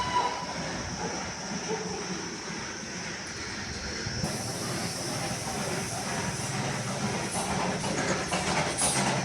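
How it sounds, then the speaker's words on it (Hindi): Steam locomotive train passing in the Darjeeling hills, a loud continuous rumbling roar with rail clatter that swells slightly toward the end, nearby and with no speech over it. "लेकिन अब मैं आपको दिखाती हूँ भाप के इंजन से चलने वाली ट्रेन कैसे होती है"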